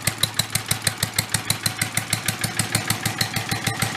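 A vintage Mite-e-Lite generator engine, recovered after being abandoned, runs at full throttle with a steady, rapid exhaust pulse and a loud, even chugging beat that holds throughout.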